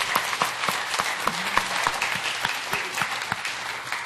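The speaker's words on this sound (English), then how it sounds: "Let's give them another round of applause." Conference audience applauding filmmakers at an Aboriginal youth and media event in a museum, steady sparse clapping from a modest crowd, moderately loud, with no talk over it.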